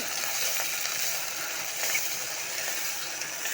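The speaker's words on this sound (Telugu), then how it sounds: "ఇవి బాగా వేగనియాలా. ఇవన్నీ బాగా వేయాలండి." Ingredients frying in a pan as part of a tomato-based dish, a steady broadband sizzle that holds evenly for a few seconds with faint stirring scrapes, moderately loud and alone without any talk.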